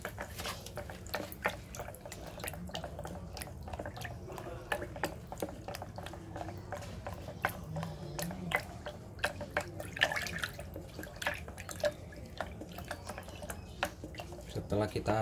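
Rice-washing water mixed with EM4 is stirred to make liquid fertilizer, producing close, continuous sloshing and dripping with irregular splashy pops throughout.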